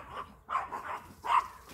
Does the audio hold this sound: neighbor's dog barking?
yes